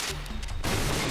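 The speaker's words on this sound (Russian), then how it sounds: "Последний выстрел." Gunfire in the PlayStation mech game Front Mission 3 comes as a short, loud burst of rapid shots that breaks in sharply partway through, with no voices.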